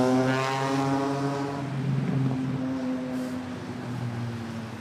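An ANA Boeing 787 Dreamliner taxiing toward runway 06 at Manila Airport makes a steady, droning engine tone with a low hum and faint whine, holding fairly constant and moderately loud throughout.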